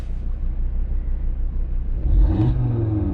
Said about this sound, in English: and there's the nice smooth rev without having any crackles